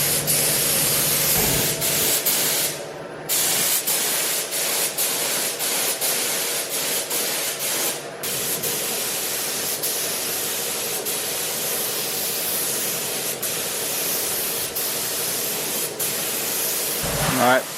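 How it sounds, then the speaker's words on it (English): Spray gun laying primer on wide overfenders of a BMW E36, a loud steady hiss in long passes broken by short pauses, with a brief clunk near the end. "Now I'm going to lay some primer, let that dry for an hour or so"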